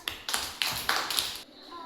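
Young children in a first-grade Telugu lesson clap together in a quick burst of sharp, closely spaced claps lasting about a second, close by in the classroom, then stop.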